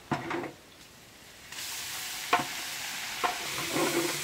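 Onion dropped into hot oil for a chicken kabsa biryani, a sudden bright sizzle that bursts up after a quieter start and keeps hissing steadily, with a few sharp scrape-like clatters of stirring.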